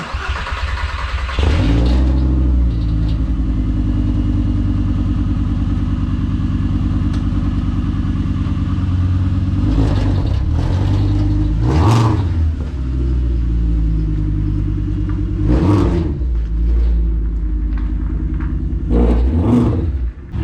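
A VR5 engine in a Mk3 Golf cold-starts, cranking and catching, then idles with a steady low rumble, punctuated by several sharp throttle blips that rev up and quickly fall back.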